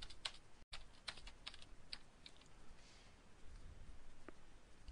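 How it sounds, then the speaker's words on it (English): Typing on a computer keyboard: quiet, irregular key clicks and taps in short runs, close and faint, with no talk. "now when we type in our if-else statement"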